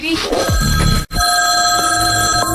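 A telephone rings with steady repeated bell tones over a background of other sound, broken by a brief gap partway through.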